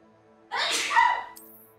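A single loud sneeze bursts out close up, a sharp breathy explosion with a brief voiced tail, followed by quiet.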